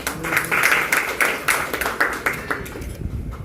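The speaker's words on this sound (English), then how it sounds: "So big round of applause for her." Audience at a business and books event applauding an author, a dense steady patter of many hands filling the room, fading out near the end, with no talk over it.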